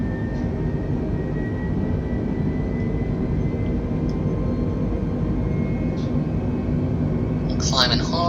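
Airliner engines in Microsoft Flight Simulator roar steadily as the automatic alpha floor protection pushes thrust to takeoff/go-around power during a landing challenge, a dense continuous low rumble, with a brief electronic chime or alert near the end.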